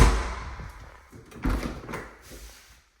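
A door to an air handler closet in a house is opened with a close wooden thump and rattle, followed by softer handling knocks.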